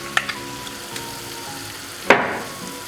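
Chicken roast frying in a pan as tomato ketchup goes in, with a soft steady sizzle, a couple of light clicks early on and a sharper burst of crackling near the end, close by and alone.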